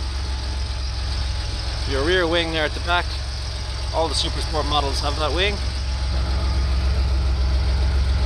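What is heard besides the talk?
Porsche 911 Supersport engine idling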